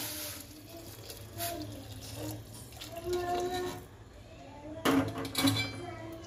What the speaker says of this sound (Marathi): गरम पाणी टाकून घ्यायचे, लागण असं टाकायचं आपल्याला।